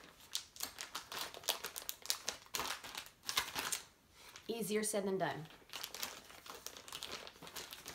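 Crinkling plastic packaging from a Dollar Tree product being torn open by hand, close-up bursts of crackling and rustling in irregular spurts, with a person talking and murmuring over it.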